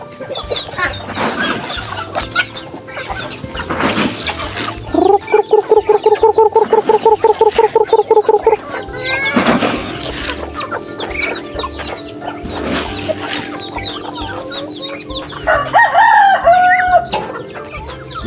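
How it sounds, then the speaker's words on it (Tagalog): Chickens cluck around a farmyard fence while a rooster crows, including a rapid run of loud, regular clucks midway and a high crow near the end, with birds close by and no talk. "May lumabas na isang manok sa bakod."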